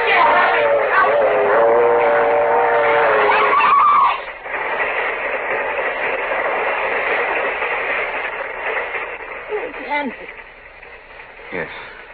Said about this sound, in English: The train! It's not coming down your track! It's coming down this one!